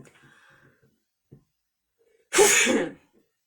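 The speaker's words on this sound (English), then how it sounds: "Sorry, I had to sneeze." A single loud sneeze bursts out after a stretch of quiet murmuring and a faint click, sharp and close, lasting about half a second.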